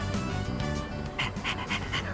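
Stray dog in Persona 3 Reloaded panting close and steadily, with quick rhythmic breaths over a continuous background of game music.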